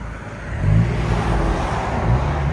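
A 2022 Ford Maverick with the 2.0-liter turbo engine and a Magnaflow exhaust revs up close by, giving a loud, steady engine drone that swells twice, with no talking over it.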